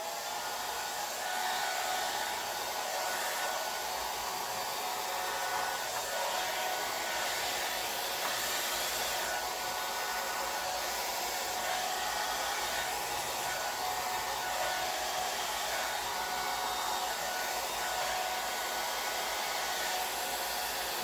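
A hair dryer blows hot air onto alcohol ink on Yupo paper, a steady, close, unbroken whoosh of airflow lasting the whole stretch with no talking.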